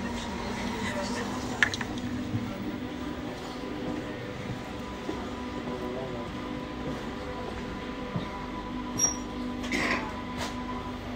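A local train runs through a station in Poland with a steady low rumble and the clatter of carriages, occasional metallic clicks and squeaks, moderately close and continuous.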